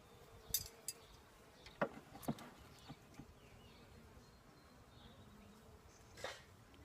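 Honeybees hum softly around an open hive during a calm-day inspection, a faint steady drone broken by a few sharp clicks and knocks of frames and tools.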